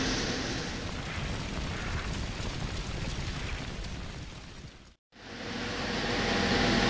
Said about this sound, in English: The burners just got turned on to simulate the fire